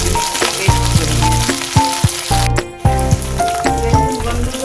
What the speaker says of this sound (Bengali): ভেন্ডিটা ততক্ষণ ভাজা হোক